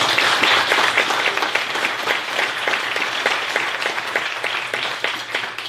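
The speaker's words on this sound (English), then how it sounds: "let's give Craft Hills a round of applause" An audience at a city State of the City event fills the room with applause, a loud, continuous roar of many hands clapping, with some sharper distinct claps standing out through the steady wash.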